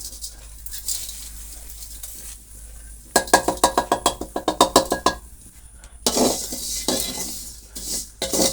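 Mango pickle ingredients are stirred in a pan, a metal spoon clinking and scraping against the pan in quick rhythmic bursts between quieter stretches of low background noise, with no talking.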